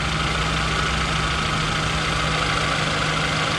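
A Kia Carens LPG 1.8 engine idling with a steady, dense, even drone and light mechanical chatter, close and continuous with no talk.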